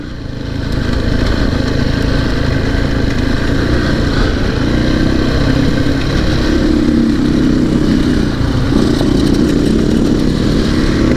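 Motorcycles, including some old bikes, rumble past on a ride in the Dargo high country, a loud continuous engine drone with swelling passes and shifting revs throughout.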